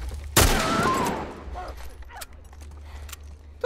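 Gunfire in the video game The Last of Us Part I: one sharp loud gunshot with a ringing tail that decays over a second, followed by fainter scattered clicks and impacts.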